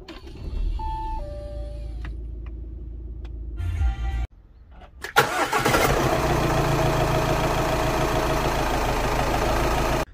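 An Audi A6 C7 with worn engine mounts is started: electronic chimes and a starter crank, then the engine catches loudly and settles into a steady, rough, shaking idle that continues close by.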